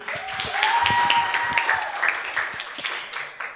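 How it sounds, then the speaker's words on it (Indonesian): An audience at a university department anniversary workshop claps in a scattered, moderately loud burst that thins out toward the end. "Beri tepuk sekali lagi"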